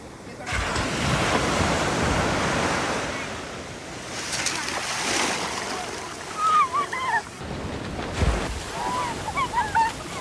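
Ocean surf breaks and washes up on a beach with gusty wind noise against the microphone, while family members' voices and children's calls rise faintly toward the end.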